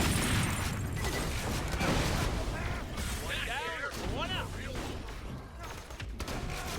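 Blasts from a Torgue shotgun in Borderlands: The Pre-Sequel burst out in a rough volley of delayed explosions and mechanical clatter, while a voice talks over the gunfire.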